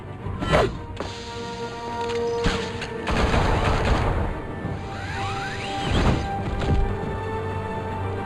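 Gunfire in the Batman video game, Telltale Series: a loud, dense fusillade of shots and thuds with whooshes, bursting in clusters across the whole stretch, no talk over it.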